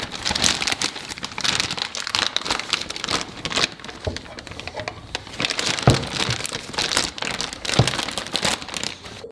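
Plastic and paper packaging crinkles and rustles steadily as it is handled while an air compressor and tank for a Ram 1500 airbag kit is unboxed, with frequent crackles and a few sharper thumps, close and fairly quiet.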